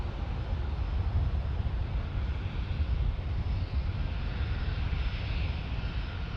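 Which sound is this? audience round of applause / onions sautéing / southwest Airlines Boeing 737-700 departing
southwest Airlines Boeing 737-700 departing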